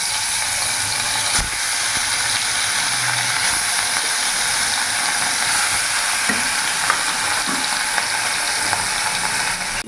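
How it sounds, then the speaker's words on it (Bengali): Pieces of rohu fish fry in hot oil over a medium gas flame, a steady, loud, close sizzle with a few faint clicks and knocks from the pan. "এবার এখানে আমি মাছগুলো ছেড়ে দেবো।"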